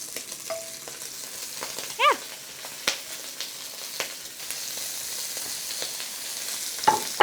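Shrimp searing in hot oil in a pan, a steady low sizzle running throughout with a few brief clinks and scrapes, close and moderately quiet.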